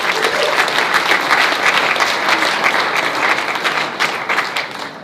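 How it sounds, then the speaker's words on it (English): Sustained applause from an audience at a live housing market meetup, dense steady clapping that fills the room for several seconds before thinning slightly at the end. "please give a big round of applause"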